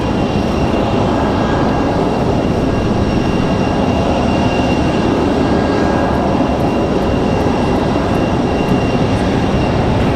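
Globex A321 charter jet touching down at Raleigh-Durham: a continuous loud, dense engine roar and rushing rumble, steady and close, with faint tonal whines riding on top.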